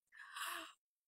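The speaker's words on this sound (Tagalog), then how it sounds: "Ang English ito ay yawn." A person's yawn, a single breathy open-mouthed exhalation lasting under a second, close and isolated against silence.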